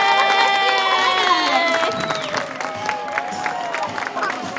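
A crowd claps and cheers for a sea lion at a show, with a broad wash of applause and excited shouts that carries through the whole stretch at a steady, lively level.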